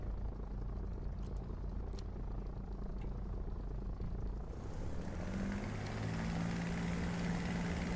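Aircraft engine in a flight simulator game spooling up for takeoff, a steady broadband roar that swells and brightens midway as power rises, continuous and fairly close, with no talk.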